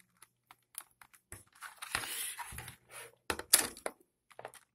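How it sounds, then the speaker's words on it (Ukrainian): Typing on a Genius KB-110 plastic keyboard: soft, fairly quiet key presses come in irregular bursts, with single taps and a few quick runs of keystrokes, close up and without speech. "Нажимання клавіш м'яке, не особливо шумне."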